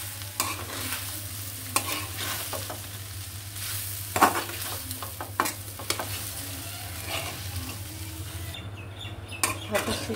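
Meat pitha frying in a pan with steady sizzling, broken by scraping stir strokes and a few sharp clinks of the utensil, over a low constant hum.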